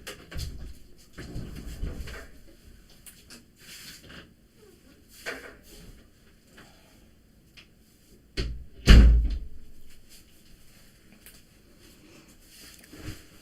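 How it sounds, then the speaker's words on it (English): An indoor door is shut at home with one sharp, loud thud, preceded by softer shuffling and handling noises in a quiet room. "Shut the door."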